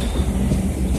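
A loud, continuous train sound effect plays alone, a steady rumble of rail cars with faint rhythmic clatter underneath and no voices.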